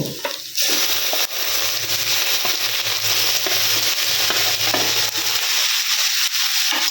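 Parboiled fish fried in a pan with chopped chilli and boiled ginger, a steady broadband sizzle holding loud and close throughout, with occasional scraping stirs and no speech.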